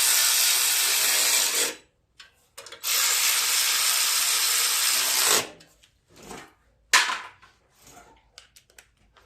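A tool tightens 8 mm and 10 mm bolts on the shroud of a Simplicity riding lawn mower, giving two long, loud bursts of rapid mechanical rattling followed by a few short, scattered clicks and taps.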